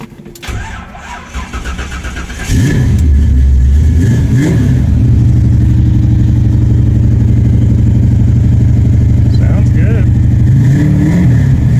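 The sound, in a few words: Chevrolet C10 engine with Quadrajet carburetor starting and revving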